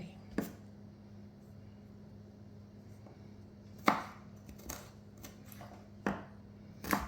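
Ginger is chopped on a board with a knife, giving a few sharp, separate knocks spread irregularly across a quiet kitchen, with faint background hum between the cuts.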